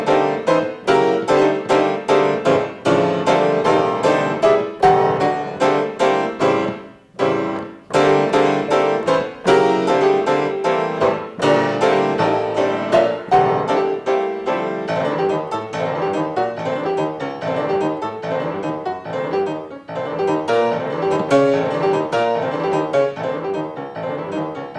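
A Peruvian academic concert piece by Iturriaga drawing on the fierce energy of Andean dance rhythms with contemporary harmonies plays loud and continuous for the whole stretch, with driving rhythmic accents and a brief pause near the start.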